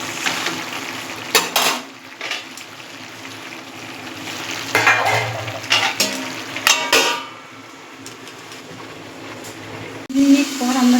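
Malabar spinach with fish head cooks in a pan, with a low sizzle and scraping stirring strokes and utensil clinks at intervals, close by, with a voice talking over it.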